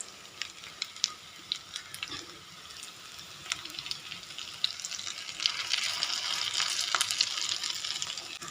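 Vada-like patties frying on a hot griddle, a soft, steady crackling sizzle with scattered pops that swells louder toward the end, with no talking.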